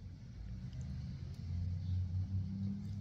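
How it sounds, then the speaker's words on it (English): A truck rumbles past outdoors at a weekly market, a steady low engine drone that swells slightly louder in the second half as it nears, with no talk over it. "It's just a truck."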